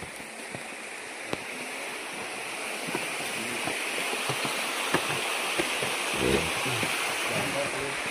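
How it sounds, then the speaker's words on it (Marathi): Water from the Gomukh spring flows down toward Lonar lake, a steady, close rushing hiss that holds evenly throughout with a few small splashes and clicks. "गोमुख या तीर्थातून वाहत येणारं जे पाणी आहे ते अशा पद्धतीने खाली"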